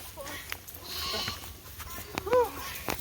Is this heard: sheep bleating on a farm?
yes